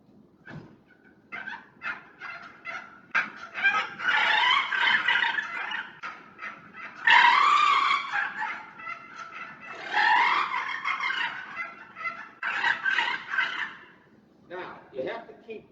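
A person imitates the calls of a flock of wild turkeys, producing bursts of rapid yelps and clucks in repeated clusters, close and fairly loud, with short pauses between bursts.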